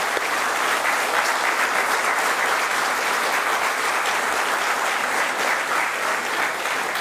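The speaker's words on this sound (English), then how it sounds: "So it's a high round of applause." An engineering college inauguration audience gives a long, hearty round of applause, many hands clapping densely and evenly at close range for the full stretch.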